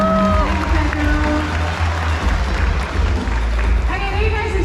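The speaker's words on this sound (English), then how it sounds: "let's give this handsome guy a nice big round of applause" Audience applause at a sea lion show at Singapore Zoo's Splash Safari, steady dense clapping and crowd noise from a large outdoor audience throughout, with a presenter's amplified voice heard over it.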